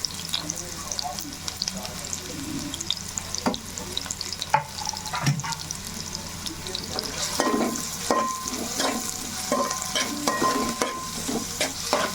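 Onions frying in a pan for mutton curry, a steady sizzle broken by scraping stirs and clinks of a spoon against the pan, fairly close, with a faint hiss of running water.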